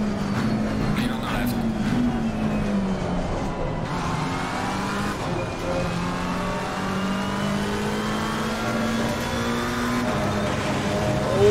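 A McLaren 720S racing at Imola in Assetto Corsa Competizione, its engine droning steadily with rising and falling pitch through the gears. The engine runs loud and continuous throughout, with someone talking over it.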